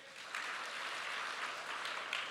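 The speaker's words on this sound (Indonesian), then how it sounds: "Tepuk tangan sama Tuhan Yesus." Church congregation applauding during a Sunday service, steady bright clapping heard somewhat distant and soft, with no voices over it.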